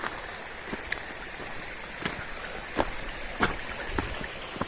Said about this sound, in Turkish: Evet burada bir dere var. Bak dereden geçiyoruz.